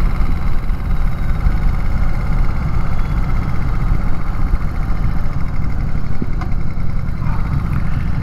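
A stock 1995 Harley-Davidson Bad Boy with about 1,500 miles idles close by, giving a steady, loud, rumbling low engine throb with no pauses.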